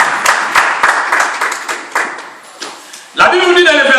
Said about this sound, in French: Acclamez pour notre Dieu